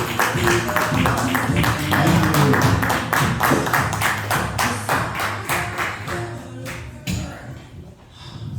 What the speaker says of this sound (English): Joe White, everybody, give a clap for him.